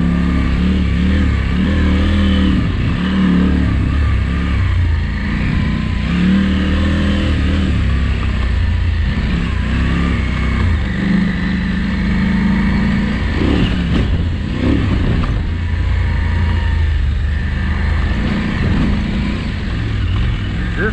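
A dirt bike riding through a very sandy wash, its engine droning and revving continuously and loudly throughout, with wind rush and some muffled voices mixed in.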